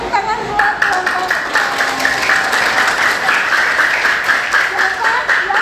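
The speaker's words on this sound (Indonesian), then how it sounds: "Tepuk tangan buat kelompok." Classroom applause for a student group, energetic clapping from many hands that continues steadily with children's voices and chatter mixed in over it.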